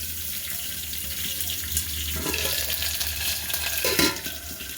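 Coriander seeds, mustard seeds, cumin, ginger, peppercorns and curry leaves drop into hot oil, setting off a soft, steady sizzle with a couple of louder spitting bursts, close by and without speech.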